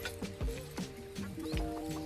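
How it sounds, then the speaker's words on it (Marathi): Village chickens cluck close by in a quick series of short, throaty clucks with a steady low background. "बघू शकता आमच्या पप्पांच्या कोंबड्या."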